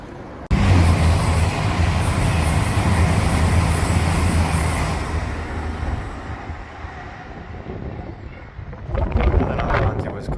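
A Class 350 electric train passes on the West Coast Main Line, a loud, steady roar and rumble with wind buffeting that swells in abruptly, holds for several seconds, then fades as it moves away.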